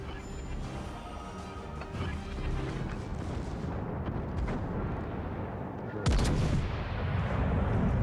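Warship guns boom repeatedly in World of Warships Legends, with heavy naval gunfire rumbling throughout and a sharp, louder blast near the end. No voices are heard.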